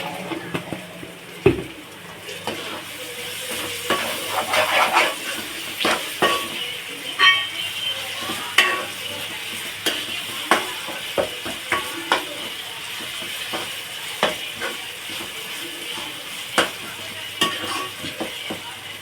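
Ginger garlic paste sizzling and frying as the base for a goat head curry, with a spoon stirring and scraping the pan in irregular clinks and knocks over a steady close hiss.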